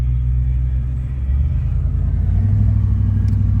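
A 1973 Ford Mustang Convertible idles with a deep, moderate exhaust rumble close by, the low throb swelling slightly and settling into a steady burble, with no talk over it.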